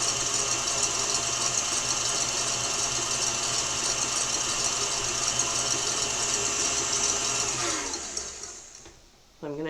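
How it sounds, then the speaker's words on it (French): An electric mixer whips egg whites without sugar for a chocolate Yule log, running in a loud, steady whirring drone up close that winds down and stops near the end, followed by a brief clatter. "je dois fouetter les blancs d'œufs premièrement sans le sucre"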